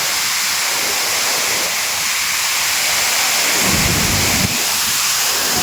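A waterfall swollen with high water roars loudly and continuously nearby, a thick rushing wash with slow surges in the low rumble and no voices.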